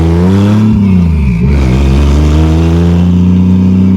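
A 1987 Toyota Supra with a swapped naturally aspirated 2JZ-GE engine and no exhaust revs loud and close, a raw droning blat that dips and rises once before settling into a steady high idle.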